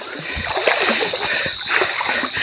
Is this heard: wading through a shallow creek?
yes